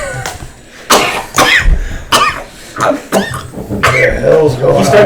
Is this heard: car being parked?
no